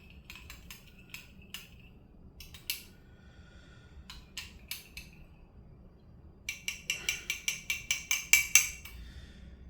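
A metal utensil stirring a scoop of dried herbs into oil in a glass container for infused herbal oil, scattered clinks, then a fast run of rhythmic taps against the glass, close and clear.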